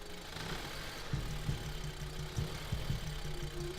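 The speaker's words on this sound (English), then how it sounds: "It shouldn't be pulsating or revving back and forward like this kind of sound." A used car's engine idles unevenly nearby, its steady hum broken by repeated low pulsing surges every half second or so, with no talking.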